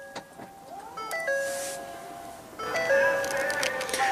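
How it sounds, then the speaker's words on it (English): Ford Explorer with a 3.5 L twin-turbo V6 as its tailgate is popped open: a chime and short electronic tones, then a motorized whir and mechanical movement close by, with a second burst of chimes and tones. "Let's go ahead and pop the tailgate."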